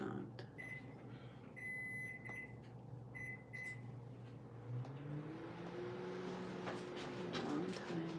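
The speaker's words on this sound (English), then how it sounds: "Sorry about the microwave." A microwave oven hums steadily while a series of short electronic beeps sounds in several bursts over the first few seconds, followed by a rising whir, with faint background noise and little talk.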